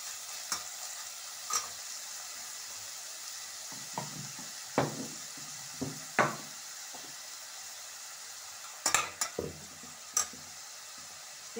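Onions sizzle and fry in a pan for an aloo matar sabzi gravy, with steady crackling broken by scraping stirs of a spoon at irregular intervals, close and moderately loud, with no talking.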